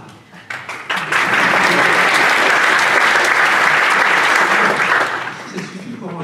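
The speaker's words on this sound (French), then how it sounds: "Ça suffit pour un applaudissement" Sustained applause from a conference audience at a lecture at the Gretsi 2015 colloquium builds quickly and holds steady for several seconds before tapering slightly, with a few voices faintly audible underneath.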